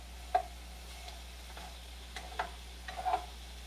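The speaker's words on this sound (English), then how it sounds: "I'm going to give this a stir, and I'm going to use this plastic ladle instead of a spatula" A plastic ladle stirs meatballs in Alfredo sauce, producing faint scattered scrapes and soft taps against the pan over a low steady hum.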